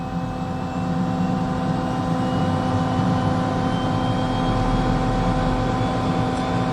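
An Eclipse 500 jet engine on battery start settles into a steady, close mechanical whine with a constant tonal hum, while a low rumble swells toward the end.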